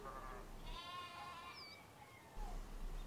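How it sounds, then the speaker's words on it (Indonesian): A large goat bleats once in a wavering, drawn-out cry at moderate volume, set against a faint hum in a quiet recording. "Kambing besar berjalan di jembatan."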